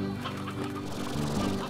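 Painted hens and roosters in Slime Rancher cluck in a steady overlapping chorus, close and continuous, with tonal clucks stacking over a low background hum.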